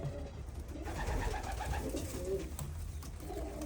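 Pigeons from a champion bloodline coo softly and continuously in a loft, a low rolling murmur that stays fairly quiet and close throughout.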